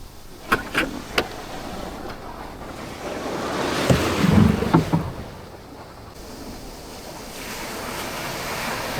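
Sea waves wash and surge around a traditional wind-powered sailing boat pushed out near Agrav, Alibag, at the start of a boat race, with steady wind noise and a few sharp knocks as the surf swells midway.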